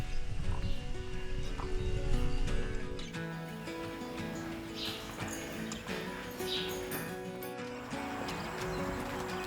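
A horse's hooves clip-clop in steady, fairly quiet steps, with birds chirping around it and faint background sounds of a stable yard.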